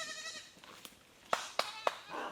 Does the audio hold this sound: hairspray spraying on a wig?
no